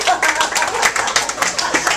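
A comedy show audience bursts into close, lively clapping, a dense run of hand claps with a few crowd murmurs for about two seconds.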